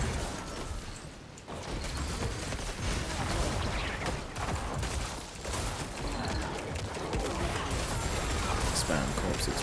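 Repeated corpse explosions from a Necromancer in Diablo IV fire off in a Nightmare Dungeon, dense bursts of crashing, crackling blasts mixed with game effects and a voice talking over them.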